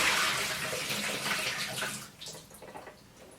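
Water pours out of the drip tray of a Breville Barista Express espresso machine, a close, splashing stream that runs loud at first and then thins into trickles and drips as it empties.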